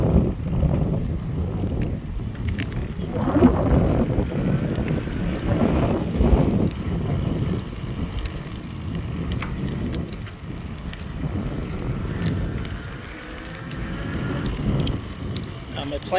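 A bicycle ride along a road, with steady wind buffeting the microphone and a continuous rolling rumble, and a person talks at intervals over the ride noise.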